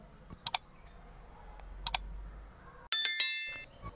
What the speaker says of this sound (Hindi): ओके ते क्लिक करो।